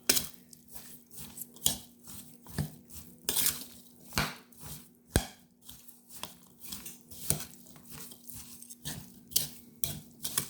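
Spoon scraping and clinking around a pot as brown sugar is mixed into pineapple baked beans, a steady run of close, irregular knocks and scrapes with no talking.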